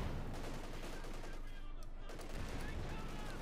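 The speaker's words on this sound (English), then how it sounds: "ignoring the AC, which just keeps shooting at the Panzer IV." Rapid gunfire rattles continuously from an armoured car firing at a Panzer IV in the World War II strategy game Company of Heroes 2, dense and sustained amid other battle noise.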